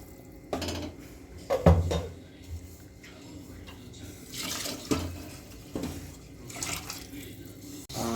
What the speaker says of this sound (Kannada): ಈಗ 2 ಗ್ಲಾಸ್ ಅಕ್ಕಿಗೆ 4 ಗ್ಲಾಸ್ ನೀರು ಹಾಕ್ಕೋಬೇಕು